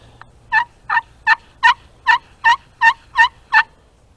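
Turkey slate pot call played by hand on an aluminum surface, giving nine evenly spaced, loud, raspy yelps in a steady rhythm, close and alone with no talking.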